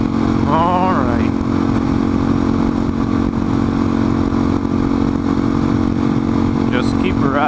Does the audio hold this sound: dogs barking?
no